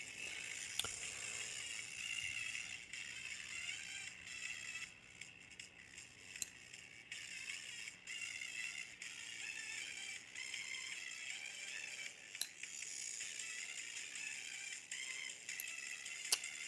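Raw, unfiltered PWM audio from pin 9 of an ATmega328P Arduino on a breadboard plays through an earbud, a faint, harsh, buzzy tone with steady high whine and occasional clicks, no voices.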